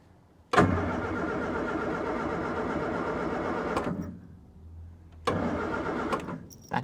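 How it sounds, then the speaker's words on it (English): 1972 Austin van engine cranking on the key, two bursts of loud rhythmic starter churning with a short pause between, close up and without voices. "does it crank on the key?"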